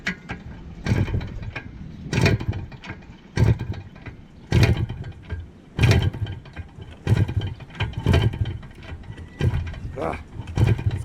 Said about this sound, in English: let me see if I can hold the throttle open all the way and kick it